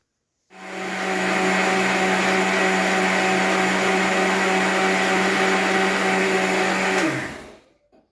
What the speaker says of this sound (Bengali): সরটাকে একটু ভালো করে মিক্সিতে বেটে নিচ্ছি।